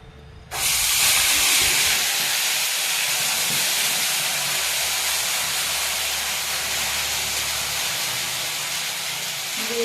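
Tomato, onion and ginger-garlic paste hits a hot wok with a sudden loud burst of sizzling hiss that holds steady and strong, alone with no talking.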